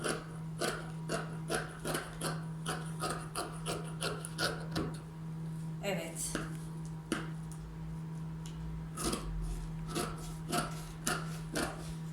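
Scissors snip through fabric for a balloon-sleeve tunic, a quiet series of close, irregular cutting and rasping strokes with short pauses.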